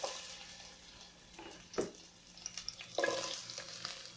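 Onions dropped into a little oil in a pan, a faint sizzle with soft stirring scrapes and a few sharper bursts of frying, quiet and close.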